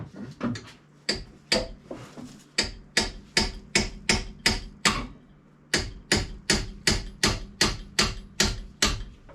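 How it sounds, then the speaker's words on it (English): A red four-pound hammer strikes metal in steady, evenly spaced blows while an engine is being pulled from a 1999 Honda Accord; the loud, sharp hits repeat about twice per second with a brief pause midway. "Give me that red hammer, I guess."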